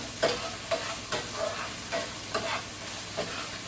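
Broccoli rabe and broccoli are tossed in a hot pan, with a soft steady sizzle and repeated stirring clatters about every half second, close and moderately quiet, with no talking.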